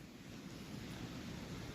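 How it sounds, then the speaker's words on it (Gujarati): Steady wind blows hard across the microphone, a constant low roar with no voices. "આ પવન લાગશે"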